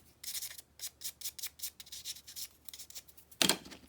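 Paper edges of a handmade yearbook-style journal are roughened by quick rubbing and scuffing, a rapid series of soft, dry scratchy strokes close by, ending with one sharper, louder scrape.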